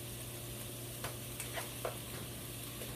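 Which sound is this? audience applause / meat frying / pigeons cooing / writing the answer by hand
meat frying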